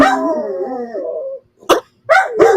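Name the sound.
dog barking and howling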